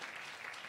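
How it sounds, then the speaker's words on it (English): Audience applause at a university innovation festival awards event, a short steady wash of clapping from a crowd, continuous and even throughout. "A round of applause again for the"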